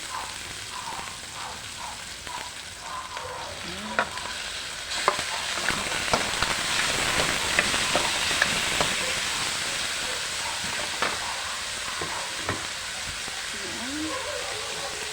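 Chicken sizzles steadily in a hot pan with tomato, with scattered scraping and clatter as it is stirred, all beneath a constant frying hiss.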